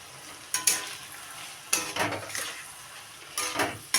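A spoon stirs a mixture of ground white sesame, water and teasel gourd in a pan, giving three bursts of scraping and soft sizzle with quiet pauses between.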